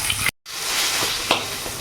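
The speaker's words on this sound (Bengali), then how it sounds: "আমি ভালো করে একটু লাল লাল করে ভেজে নেবো।" Silver carp fish pieces frying in oil, a steady close sizzle with a brief silent gap near the start and a few small pops.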